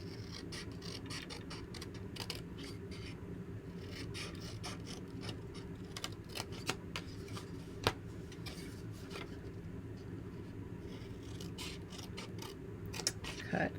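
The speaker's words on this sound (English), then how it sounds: "So we're going to cut on this line" Scissors snip through a paper craft along a line, giving a run of small crisp clicks and cuts at an uneven pace over a low, steady background hum.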